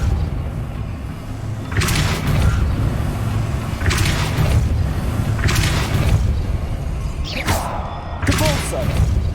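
The Depulso spell fires in Hogwarts Legacy as several sharp, bright whooshing bursts at roughly two-second intervals over a low ambient hum, with a voice speaking briefly.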